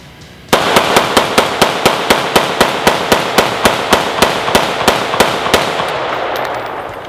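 Century C308 rifle firing rapidly in a 1000-round torture test, a steady string of about twenty loud, close, evenly spaced shots that stops near the end.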